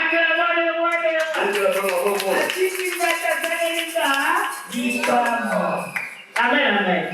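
A church congregation claps and calls out in praise during a service, rhythmic clapping blending with loud sung and shouted voices, continuous and close throughout.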